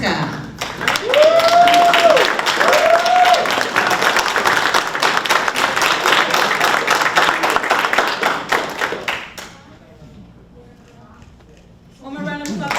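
Applause from a graduation ceremony audience, dense and sustained clapping for about nine seconds before fading, while an announcer's voice carries over it and speaks again at the end.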